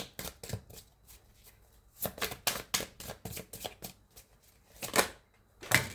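Tarot cards are shuffled by hand in close, crisp riffling bursts, a few spaced flurries and sharp taps over several seconds with no talking.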